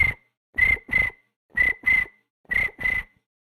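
A person imitates a cricket chirping with the voice, giving six short, close chirps in three quick pairs with clear gaps between them and no other sound.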